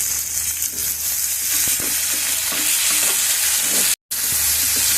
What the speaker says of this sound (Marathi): छान मॅश होईपर्यंत आपल्याला परतून घ्यायचं